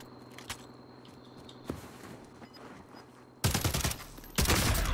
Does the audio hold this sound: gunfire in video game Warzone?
yes